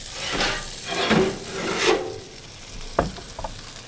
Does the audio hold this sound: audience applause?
no